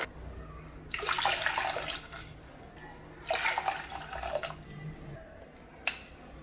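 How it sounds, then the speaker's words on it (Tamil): About three cups of water poured into a pot for rasam in two splashing bursts, each lasting about a second or more, followed by a single drip. "இதில் ஒரு 3 கப் அளவுக்கு நம்ம தண்ணி சேர்த்துக்கலாம்"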